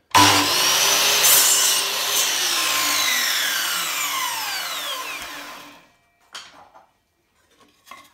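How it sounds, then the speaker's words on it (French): A Metabo KGS 216 M miter saw makes a straight cut through wood, a loud blade whine and cutting roar lasting about six seconds, then winding down to near silence with a few faint knocks. "nous allons déjà procéder à une coupe droite, toute simple"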